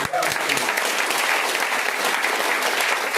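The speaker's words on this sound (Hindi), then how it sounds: "तो आपको एक जोरदार ताली बजानी चाहिए।" Audience at a product training event in Bihar breaks into loud, sustained clapping, a dense continuous roar of many hands close by.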